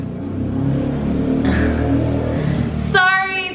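A car engine revs and accelerates loudly on a busy street in Mexico, a steady mid-pitched roar that swells before a brief whining tone cuts in near the end.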